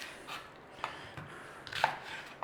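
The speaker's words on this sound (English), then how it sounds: "just slice up your onions nice and steady" Onions sliced with a knife on a board, a kilo of them for a German onion tart, giving a few sparse, soft taps and cuts close by, the strongest near the end.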